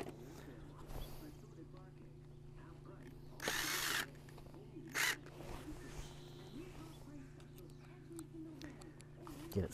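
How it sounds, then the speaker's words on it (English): Two short bursts of a power drill driving screws into an outdoor electrical box, loud and close, spaced about a second apart over a steady low hum and quiet background rustling. "All right, ready to put the screws in."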